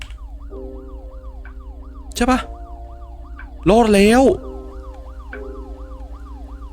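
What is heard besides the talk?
police car siren in a video game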